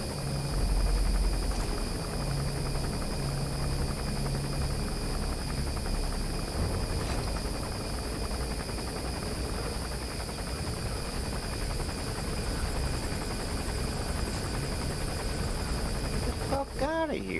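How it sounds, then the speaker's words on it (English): An enemy gunship helicopter in the video game Metal Gear Solid V drones on as a steady, hissy rotor-and-engine whir across the whole stretch, fairly constant in level, with brief talk early on. "That's an enemy gunship."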